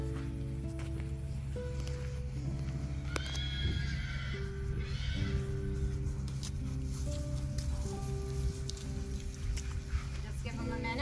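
Horses whinny and neigh while being loaded into a 1987 F600 Imperatore horse van, with hoof clops and shuffling around them and a voice speaking over the steady background.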